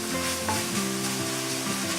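Sausage sizzles and browns in a hot frying pan for a gluten-free sausage gravy, a steady close crackling hiss without pause and no talking.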